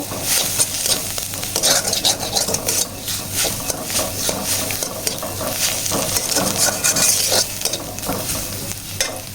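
Egg noodles with egg and salt being stir-fried in a pan: a steady loud sizzle with frequent scraping and clattering of a spatula against the pan, up close with no talking.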